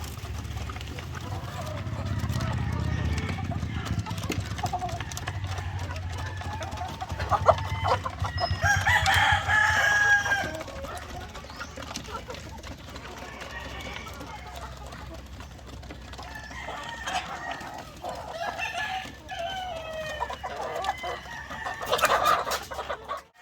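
Chickens cluck steadily throughout, with a rooster crowing partway through, set in a busy farmyard with occasional voices nearby.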